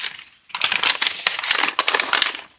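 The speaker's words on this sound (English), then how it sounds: "Noisy paper." Noisy paper packaging from a boxed 1:2 scale Alien figure pack is crinkled and crushed up close, a loud, continuous rustle with sharp crackling bursts throughout, no voices.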